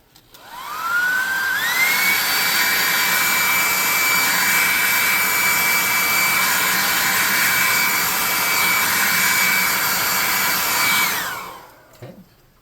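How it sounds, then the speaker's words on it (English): A hot air gun switches on, whines up to a steady high-pitched roaring blow that holds for about ten seconds, then winds down and stops, used while making a tabletop miniature pond. "let's hit it with some air, hot air from our blow dryer,"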